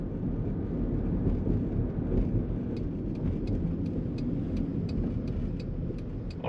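A 1997 Honda Stepwgn minivan drives along with a steady low engine and road rumble, wind noise on the microphone, and faint ticking from the cabin, continuous and fairly loud with no talk.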